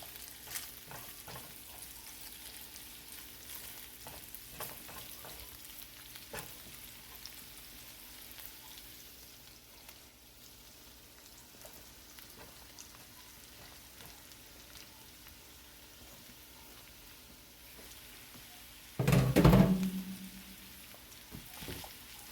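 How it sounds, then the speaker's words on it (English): Ham sautés in a pan before Brussels sprouts go in, a faint, steady low sizzle with light stirring and a sharp louder clatter near the end. "So I'm just sauteing up these, and then I'm about to add my Brussels sprout in."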